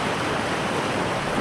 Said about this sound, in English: This current's pretty strong right now.